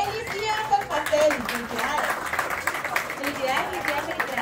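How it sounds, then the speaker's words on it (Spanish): Guests at a bachelor party clap for the bride who baked the cake, a steady spatter of hands running under close, overlapping chatter and children's voices. "Un aplauso para la novia que le quedó delicioso el pastel."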